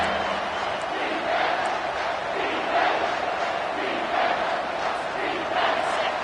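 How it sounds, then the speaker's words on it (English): A football stadium crowd roars during a red zone stand, a broad sustained din of cheering and yelling that swells in waves, with a faint voice underneath. "This crowd is trying to inspire this defense to make a big red zone stop."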